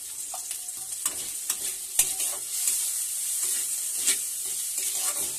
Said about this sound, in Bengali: সবগুলো মশলা আবার ভালো করে ভেজে নিচ্ছি।